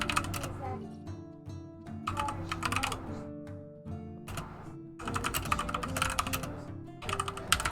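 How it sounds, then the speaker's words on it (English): Computer keyboard typing in quick clattering bursts separated by pauses, sitting under a sustained musical background; speech is present. "I'm also typing, typing folks."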